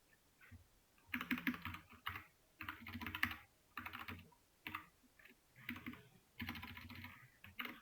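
Typing on a computer keyboard, heard as clustered bursts of rapid key clicks separated by short pauses, close and moderately quiet, with no talking.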